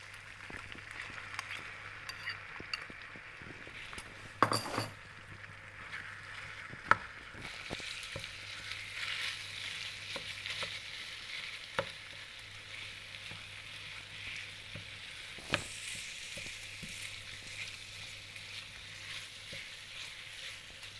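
Minced meat sizzles and fries quietly in a pan, with occasional sharper scrapes and clacks as it is stirred, the steady hiss running under intermittent utensil knocks.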